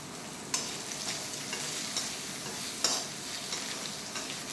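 Soaked sabudana frying and being stirred in a pan for khichdi, a soft steady sizzle with occasional sharp scrapes of the spatula, quiet and close, no talking.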